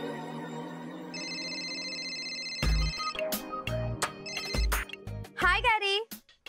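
A telephone rings on a call, steady repeating electronic trills that carry alone for a few seconds before voices and other sounds cut in over them.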